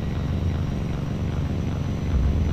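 Steady, loud low-pitched drone of a V-22 Osprey tiltrotor's engines and rotors under added throttle in the flight simulator X-Plane 11, continuous and close with no talking.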